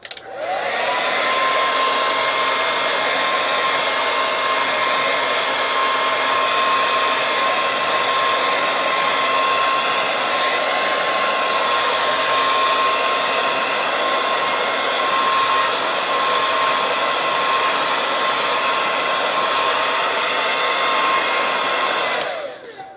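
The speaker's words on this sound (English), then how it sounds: "now you can start drying it with the hair dryer" A hair dryer blows steadily and loudly for over twenty seconds with a constant whine while drying a faux finish on a prop bamboo cane, no voices, then shuts off.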